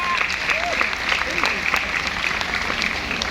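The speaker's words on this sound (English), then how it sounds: "Please go ahead and clap if you know music." An audience claps steadily at an event about a solar-powered housing estate in Nigeria, a dense wash of applause running throughout with music and a voice faintly underneath.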